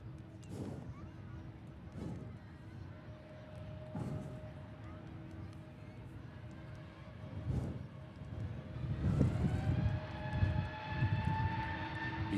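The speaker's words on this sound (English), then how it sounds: "TUI Dreamliner out to Paphos" A TUI Boeing 787 Dreamliner departs Manchester Airport, its jet roar rising and swelling toward the end over steady background rumble, with a voice talking faintly.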